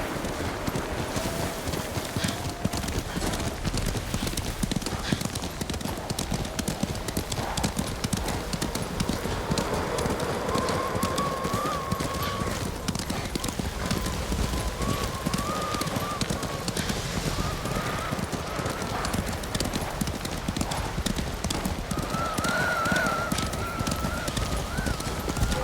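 Horse hooves gallop in a fast, continuous clip-clop rhythm throughout the feudal Japanese action game Ghost of Tsushima, loud and near, with a horse's snorts and faint voices over the steady running beat.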